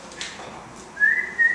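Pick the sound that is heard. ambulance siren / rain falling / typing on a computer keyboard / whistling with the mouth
whistling with the mouth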